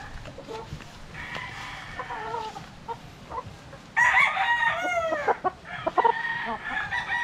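A gamecock stag crows loudly and nearby with repeated cock-a-doodle calls, mixed with clucking and other fowl sounds in a farm yard with a steady low background.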